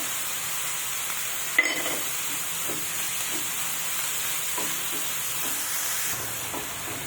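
Green chilli paste fries in a pan on the stove for rava idli, giving off a soft, steady sizzle and hiss with a few faint stirring clicks and no talking.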